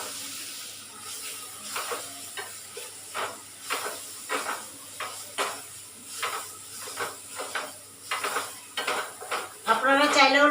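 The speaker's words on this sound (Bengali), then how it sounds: "এবার এটা দিয়ে দিলাম মুগ ডাল" Mung dal tipped into a hot pan already holding ground spices, turmeric and chilli powder, then stirred with a utensil: a steady series of scraping, clinking strokes over a soft sizzle, ending in a brighter burst of hiss.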